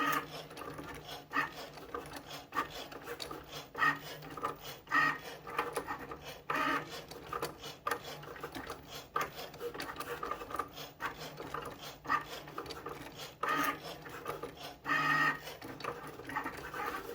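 A Cricut Maker 3 cutting machine runs quietly with a soft, rhythmic scratchy rasp and mechanical whir in repeated bursts, fairly faint and close, with no talking.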